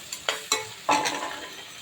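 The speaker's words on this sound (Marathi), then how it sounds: "टमॅटो घालायचे त्याला एक दोन मिनटं परतून घ्यायचं" Tomatoes being sautéed in a pan, with a few sharp scraping stirs of a spoon against the metal over a close, steady sizzle of frying.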